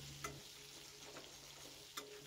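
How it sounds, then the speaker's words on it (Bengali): Cut potatoes frying in a pan for a pumpkin-greens and prawn curry, a steady low sizzle with a couple of brief stirring clinks, close and fairly quiet with no talking. "এরপর এই আলুটাকে 4 থেকে 5 মিনিট সময় ধরে ভেজে নেব।"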